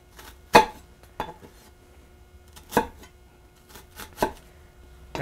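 A knife chops through food onto a cutting board while preparing rigatoni with pork ragu, several sharp, close knocks spaced irregularly with quiet gaps between.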